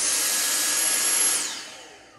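Dyson V6 cordless vacuum cleaner fitted with a DeWalt XR 18V battery, a loud, steady high-pitched whine that runs at full speed, then winds down and fades within the last second.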